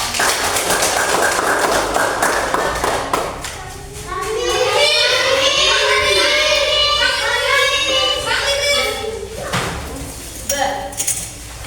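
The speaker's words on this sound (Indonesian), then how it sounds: "Tepuk tangan untuk kelompok" A classroom of children claps for a group of classmates, a dense burst of clapping over the first few seconds, then children's voices chant and talk together.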